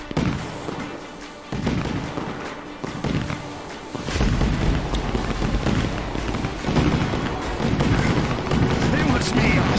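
Fireworks called 1,000 stars go off in the game Fireworks Mania, a dense stream of crackling bursts and booms that grows louder and more continuous after a brief quieter stretch.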